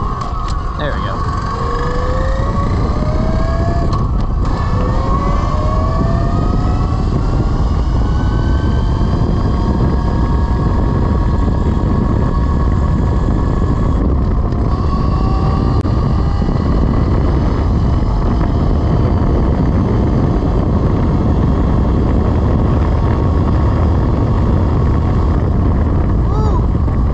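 A Velimotors VMX12-F electric motorcycle ridden hard in sport mode, a steady whining motor tone rising and falling over loud, constant wind rush, close and sustained throughout.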